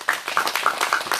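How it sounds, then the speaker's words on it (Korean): At a Saturday rally against THAAD in Soseong-ri, Seongju, a crowd claps in a brief burst of quick, dense applause, with a few voices calling out among the claps. "다시 한번 뜨거운 박수 부탁드리겠습니다"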